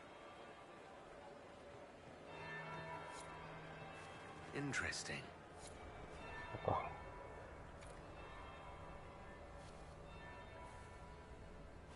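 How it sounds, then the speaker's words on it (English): A bell tolls a few times in Dragon Age: Inquisition. Its low, sustained ringing sits faintly in the background, under and between spoken voices. "The second bell."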